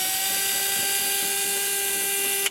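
A 3.6V cordless screwdriver runs forward to tighten a bolt, a continuous close motor whine that holds steady and then cuts off abruptly at the end.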